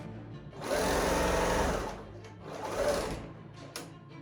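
An overlock sewing machine running a 3-thread overlock stitch on a garment, two loud close whirring bursts of rapid stitching, the first longer, with a brief pause between.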